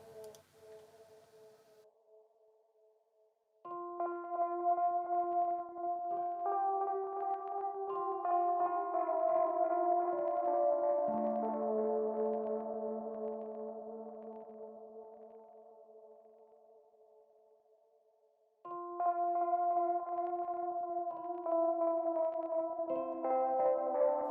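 Soft, sustained synth pad chords treated with a warbling, stuttering effect, swelling and fading, then returning after a quiet gap.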